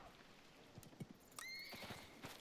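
A horse in the video game Icarus gives a bright whinny over soft hoofbeats, with steady rain-like ambience underneath; the neigh is clear but not overpowering.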